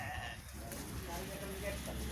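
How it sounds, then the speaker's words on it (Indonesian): Goats loose in a pen bleat amid steady farm background noise, with a person talking over the animals throughout. "cukup banyak kambing-kambing yang dibiarkan bebas, jadi tidak diikat ini"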